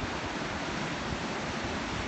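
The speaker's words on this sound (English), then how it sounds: "Gazing out at the horizon, hearing the waves crashing" Ocean surf crashing below a cliff at Laguna Beach, a steady loud wash of broadband roar with no distinct breaks, wind-blown and continuous throughout the short stretch, without any voice.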